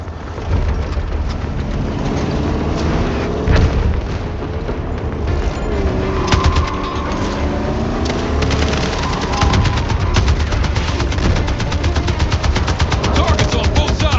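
Battlefield 6 gunfire crackles in dense, sustained automatic bursts with occasional heavy booms, loud and near throughout a chaotic firefight, while soldiers shout over the shooting.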